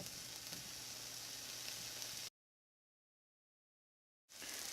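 Shrimp sizzle softly in a hot pan, a quiet, even frying hiss that drops out completely for a couple of seconds before returning.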